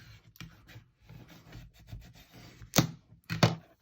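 A vinyl stencil is rubbed smooth onto a glass coaster: soft, close scraping and rubbing strokes in an uneven rhythm, ending with two sharper, louder swipes.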